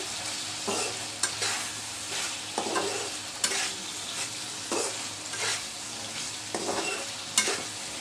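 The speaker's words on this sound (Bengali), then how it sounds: "একটু নেড়ে ছেড়ে কষিয়ে নিচ্ছি" Egg jhuri fried with spices in a pan, stirred in irregular scrapes every second or so over a steady close sizzle, with no voices.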